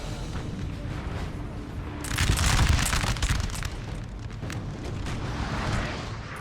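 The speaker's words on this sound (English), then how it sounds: "I've got a bit of howitzer fire there." Howitzer artillery fire in the Napoleon Total War game, a deep booming blast about two seconds in that rolls into a sustained rumble over steady background battle noise.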